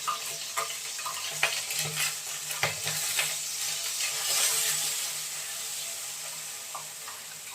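Masala for a dry fish tawa fry sizzles in hot oil in a pan: a steady, close hiss of frying with scattered crackles and stirring clicks, and no voices.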